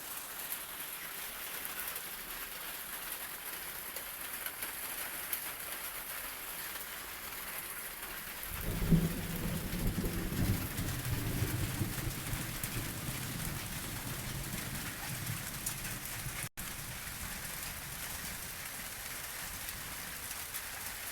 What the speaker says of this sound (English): You can see, guys, the rain is wow.